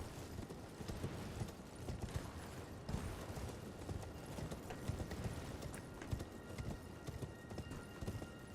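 Steady clip-clop of horse hooves trotting in Elden Ring, with a dense, busy game background and occasional snorts, no talking.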